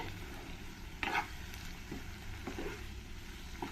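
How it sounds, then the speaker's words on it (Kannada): Vangibath gojju paste fries in a pan with a soft, steady sizzle, faint and even, broken now and then by a brief scrape of stirring. "ಒಂದು ಎರಡು ನಿಮಿಷ ಇದು ಸ್ವಲ್ಪ ಫ್ರೈ ಆಗಲಿ"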